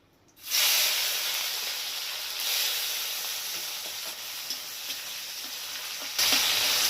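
Chopped tomatoes hit hot oil and fry in a pan for a Bengali-style tomato base, an abrupt loud sizzle that settles into a steady, close hiss with small crackles, swelling again near the end.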